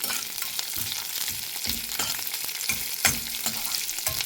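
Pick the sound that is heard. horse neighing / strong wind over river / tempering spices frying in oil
tempering spices frying in oil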